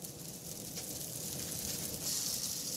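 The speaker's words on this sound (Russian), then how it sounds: "Жарим по 2-3 минуты на каждой стороне." Pancakes fry in brown butter in a pan, giving a steady, close sizzle with a fine crackling hiss that swells slightly toward the end, no talking over it.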